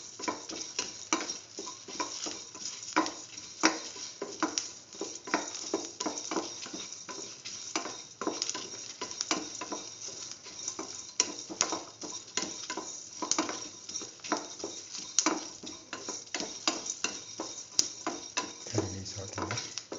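Scrambled egg and ash gourd are sautéed in a pan with constant light sizzling and repeated spatula scrapes and taps in an uneven rhythm, close, while a voice talks over it.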